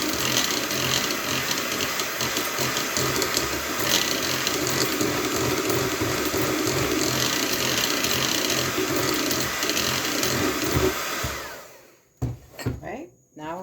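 An electric mixer beats cake batter with flour for a weeping cake, a continuous loud whirring grind that runs steadily and then stops abruptly, followed by a few brief knocks.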